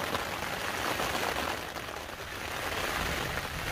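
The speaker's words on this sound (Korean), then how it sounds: "비바람이 상당히 몰아치다 보니까" Heavy windblown rain pounds a tent on Oseosan mountain during a backpacking trip, a dense, continuous hiss and patter close by with no talking.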